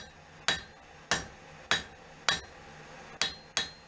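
Hot steel for a mezzaluna half-moon knife struck with a hammer on an anvil while thinning the blade, six sharp ringing blows at a steady pace, close and clear with no talking.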